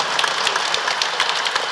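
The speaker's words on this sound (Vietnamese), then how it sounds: "cũng cho một tràng pháo tay nữa." Congregation applause inside a Catholic parish church during a patron saint feast celebration, a dense steady wash of clapping with scattered sharper claps throughout, no voices.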